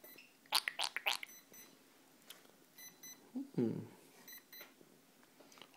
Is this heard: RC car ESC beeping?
yes